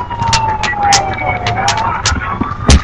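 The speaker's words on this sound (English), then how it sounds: "Is the ambulance driver drunk?" An ambulance siren in Grand Theft Auto wails in a steady rising and falling tone as the vehicle drives into traffic, moderately loud and continuous, under game engine noise and a few sharp impacts.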